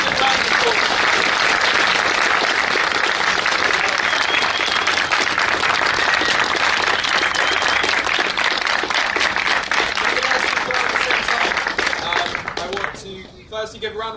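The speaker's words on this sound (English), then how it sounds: "give a round of applause" Sustained applause from a large debate audience, loud and dense for about twelve seconds before thinning out and tapering toward the end.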